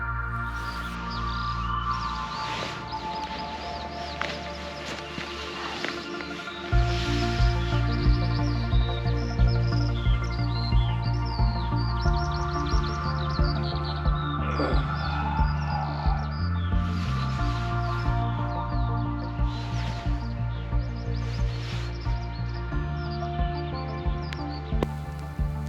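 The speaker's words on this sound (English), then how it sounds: "It was just me and the birdsong as the day broke over the heart pond." Birds chirp and call at daybreak over a misty pond in the Lincolnshire countryside, a scattered chorus of small tweets, some near and some distant, over a low steady background hum.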